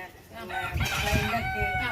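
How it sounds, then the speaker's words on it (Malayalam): A native rooster crows loudly and close by in one drawn-out call among a backyard flock of chickens, with faint clucking beneath it. "അപ്പോൾ ഇതൊക്കെയാണ് സുഹൃത്താതന്റെ കോഴികൾ"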